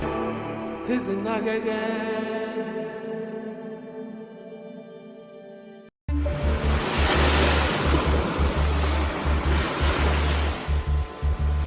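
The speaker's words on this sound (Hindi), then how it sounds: "अरेबियन सी की लहरों के किनारे, जहां हर लहर इतिहास से टकराती है" Arabian Sea waves break on the shore near Somnath in Gujarat as a broad, steady roar of surf. It comes in after a short stretch of tonal music and holds loud and continuous to the end.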